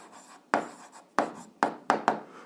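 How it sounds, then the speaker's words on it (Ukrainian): Pen writing an answer by hand on paper for an eighth-grade algebra exercise on square roots, heard as four or five distinct scratchy strokes with faint rustle between them, close and alone without talk. "Записуємо відповідь, пишемо відповідь."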